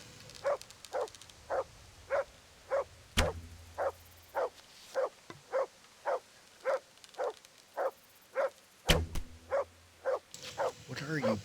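A dog in Kingdom Come: Deliverance barks steadily and rhythmically, about seventeen evenly spaced barks at moderate distance, interrupted twice by sharp bow-shot twangs and impacts.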